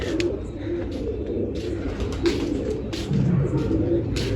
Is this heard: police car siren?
no